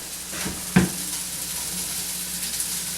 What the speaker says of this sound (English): now I'm going to add some fresh onion here